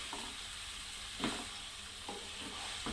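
Paneer cubes sautéed in a pan for palak paneer, a low steady sizzle with a few soft stirring scrapes and knocks of a spoon against the pan, quiet and close, with no talking.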